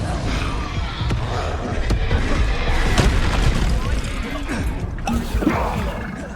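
An Expulso explosion spell goes off in the Hogwarts Legacy video game, a loud booming blast among rumbling battle noise and sharp impacts, with a voice shouting over it.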